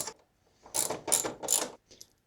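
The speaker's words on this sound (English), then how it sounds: "Here we've got a 10mm ratchet. I'm just going to go ahead and run these 4 bolts off here" A 10mm hand ratchet backs out fuel rail bolts on the intake of an LS1 Chevy Camaro, giving three close, loud bursts of rapid pawl clicking with brief pauses between them and a faint final click.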